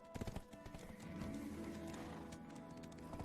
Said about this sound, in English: And how's our horse doing? Oh, I called her.